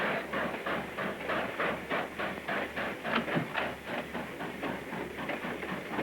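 A train rolls along the rails with a rhythmic clickety-clack and low rumble, steady and moderately loud, no talking.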